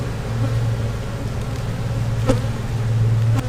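A steady, low drone of many honeybees buzzing close by at a hive with European foulbrood, continuous and even, with a couple of brief sharp clicks.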